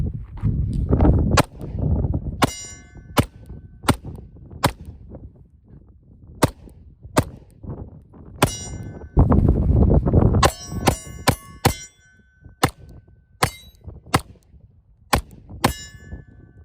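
Glock 19X and a Glock-clone pistol firing at steel targets, a sequence of sharp gunshots each followed by a bright ringing clang from the steel, irregularly spaced with some quick bursts, loud and close.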